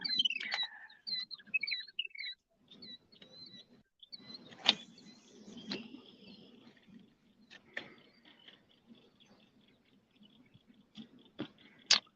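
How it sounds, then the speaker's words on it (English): A small bird chirps in short, high bursts, mostly early on, with scattered clicks and faint rustling in a quiet setting. "You hear that bird?"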